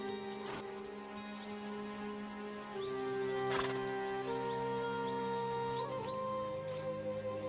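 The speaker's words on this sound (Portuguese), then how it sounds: "Os cavalos da Lakutia enfrentam o frio de cabeça erguida." Yakutian horses in deep Siberian winter cold neigh and whinny in several long calls, with hooves clopping alongside; the sounds carry clearly and fairly close over a quiet background.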